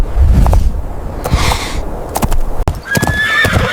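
A horse neighs loudly and close, with hooves clip-clopping in an irregular rhythm around the whinny over a steady outdoor background.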